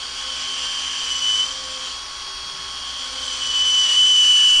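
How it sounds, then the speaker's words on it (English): A Snap-on right angle grinder spins at close range, giving a steady, high-pitched whine that swells slightly in loudness toward the end, with no talking. "The SnapOn right angle grinder works wonders for these little projects."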